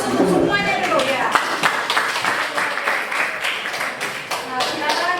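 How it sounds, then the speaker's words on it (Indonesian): A classroom of students breaks into scattered clapping, steady and moderately loud, mixed with a teacher's voice and chatter from the class. "Beri aplaus untuk semuanya dulu ya"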